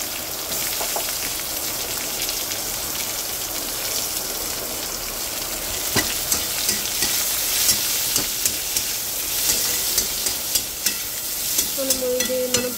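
Onion pieces and curry leaves crackle and sizzle in a hot pan, a dense spattering hiss with repeated sharp pops and spatula clicks building toward the end.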